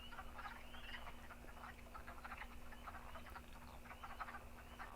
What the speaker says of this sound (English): During my trips to the woods in the dark, wood frogs were the most common species I saw